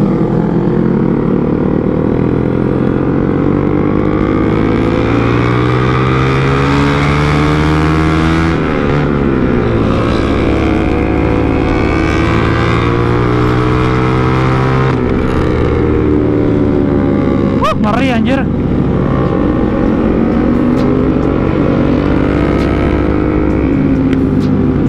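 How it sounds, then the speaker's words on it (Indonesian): A motorcycle engine drones loudly and continuously during a night ride past a market, its pitch rising and falling with throttle changes, close and alone with no talk. "Suara motor gue tuh gede doang, anjir tenaganya mah kagak ada"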